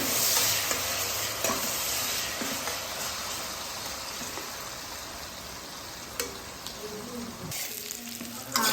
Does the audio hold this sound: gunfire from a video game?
no